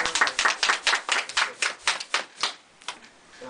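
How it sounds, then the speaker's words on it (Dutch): A small audience at a Dutch local radio event claps in short sparse bursts that thin out and fade toward the end, with no talk over it. "eerst even een applaus"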